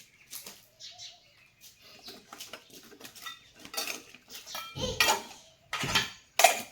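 Tiffin lunch box being packed with roti in a home kitchen, heard as a series of close metallic clinks, taps and clatters of steel containers and lids, growing louder toward the end. No one speaks.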